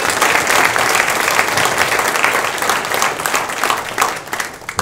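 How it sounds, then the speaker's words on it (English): Audience applause at a university athletic hall of fame ceremony, loud and dense clapping from a large crowd filling the hall, sustained without a break. "So again, I want to clap one more time,"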